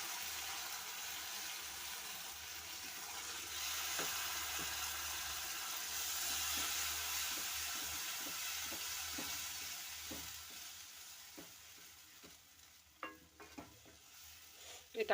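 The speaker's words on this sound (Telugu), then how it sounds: "ఇందులోనే మనం ఒక మీడియం సైజు 2 టమాటాలను పేస్ట్ చేసుకుని అందులో వేసుకోవాలి." Liver pieces frying in a pan with a paste of two medium tomatoes for a Telugu amaranth-leaf liver curry. Steady broad sizzle with scraping stir strokes and clinks, quieter and more broken toward the end, no talk.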